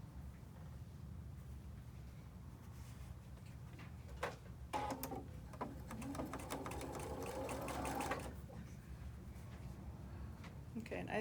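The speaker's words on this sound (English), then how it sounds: "I am going to sew a strip, this time of the white, on the two sides." A sewing machine stitches a white fabric strip onto a quilt block, a low steady hum running under the whole stretch, with brief clicks and handling rustles partway through.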